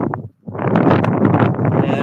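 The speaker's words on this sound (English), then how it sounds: "Whoa, a little windy." Gusting wind buffets the microphone in an open field, a loud, steady rumbling roar after a brief lull, with no talking heard.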